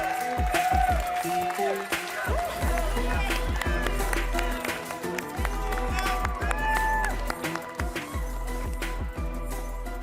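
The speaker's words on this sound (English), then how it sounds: "Ladies and gentlemen, all the way in the back, give it up for Juju Smith-Schuster" A large crowd at the EA Play event during E3 2019 cheers and applauds loudly and steadily throughout, with loud music and a booming low beat mixed in.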